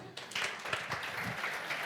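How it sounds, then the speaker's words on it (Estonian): Conference audience applauds in a hall, a fairly quiet, even wash of many hands clapping that starts after a brief pause and continues steadily. "Aplaus!"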